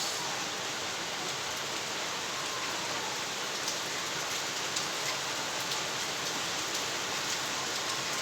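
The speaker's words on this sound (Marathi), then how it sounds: "जोराचा पाऊस आलाय, जोराचा." Heavy monsoon rain pours down steadily in a continuous dense hiss across the whole clip, loud and unbroken, with no voices.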